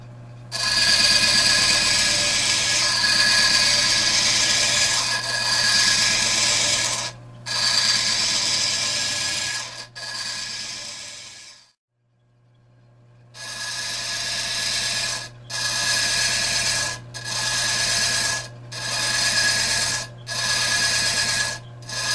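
A power saw cuts the corners off an agate cylinder for a marble, giving a steady rasping grind in several long passes. A brief pause comes partway through, followed by shorter, evenly spaced cuts.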